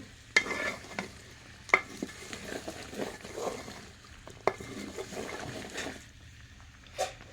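Vegetables and chickpea lentils stirred and tossed together in a frying pan, with soft scraping and a low sizzle plus a few sharp spatula knocks against the pan, no talking.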